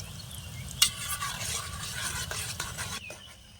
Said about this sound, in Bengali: ভালো করে নেড়ে দিচ্ছি চারিদিকে